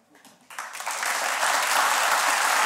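Studio audience applause on a Bulgarian talk show, swelling from a faint start into loud, sustained clapping that fills the room, with a brief murmur of voices underneath at the start.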